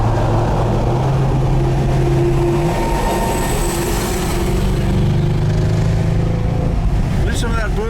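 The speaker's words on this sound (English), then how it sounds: "we can hear a bit of the exhaust and we'll hear some pops and crackles" A V8 car exhaust burbles loudly with the windows down, a deep rumble that shifts pitch under continuous talk, with a few faint crackles near the end.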